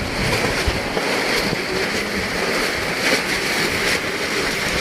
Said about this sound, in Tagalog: malakas ang hangin mga kabady Nagagalit yung plastic nagwawala yan